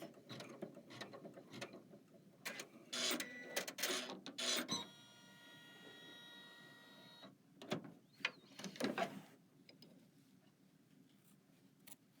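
A Kimberbell embroidery machine stitches a placement and tack-down line for an embroidery-by-number design, close rapid mechanical clatter in bursts with a steadier whirring stretch in the middle, fading quieter toward the end.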